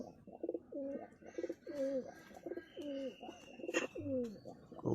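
A Benaras pigeon, a young adult in moult, coos repeatedly in a steady rhythm of rolling, close calls, with faint chirps and background sounds between them and no talking.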